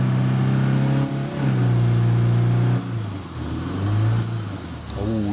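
A car engine in State of Decay 2 revs hard in a loud, close run of surges and dips, climbing and falling in pitch with several throttle changes.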